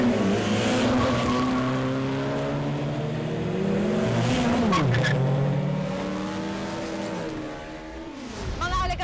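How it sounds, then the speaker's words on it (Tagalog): Cars in an illegal drag race roar loudly and continuously, engines revving up and down with a pitch sweep midway and tires squealing, while a voice talks over the racket throughout. "ang paglaganap ng iligal na karera ng mga sasakyan."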